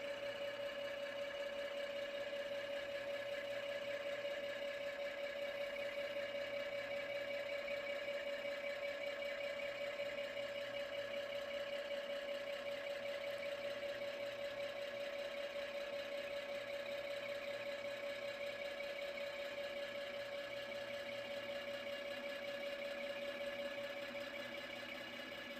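The actuator motor of a TRAX J5 power dolly runs continuously, a steady mechanical whir with a strong tonal hum that holds even and fairly quiet for about twenty-five seconds and then stops at its automatic limit.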